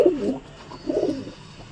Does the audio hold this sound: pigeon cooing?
yes